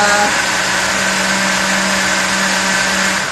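A kitchen blender whirs loudly and steadily on its own for a few seconds, a dense constant motor drone with a sustained hum before winding down at the end.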